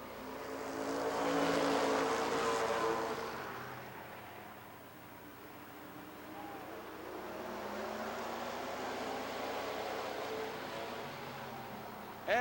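Stock cars race at Rockford Speedway during a 1996 championship night, a distant pack roaring past and swelling then fading, with crowd and track noise and no clear talk.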